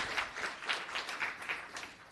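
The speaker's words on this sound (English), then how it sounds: "A big round of applause for the Purple Onion." Applause after a toast to a local business at a town council meeting, a brief round of claps from the audience at moderate distance, steady and fairly faint with scattered distinct hand claps.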